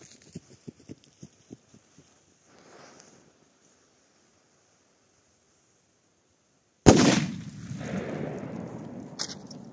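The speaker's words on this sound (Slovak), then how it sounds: "Poďme si tam dať poslednú petardu," A Doom Boom Original firecracker set on a tablet fizzes with a string of quick ticks, falls silent for several seconds, then explodes in one sharp, loud bang followed by a rattling, debris-filled decay.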